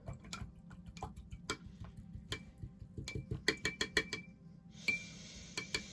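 A paintbrush rinsed in a water jar while painting an ocean scene, giving a quick series of close, light glassy clinks and taps as the bristles and handle knock against the jar, with a short watery swish near the end.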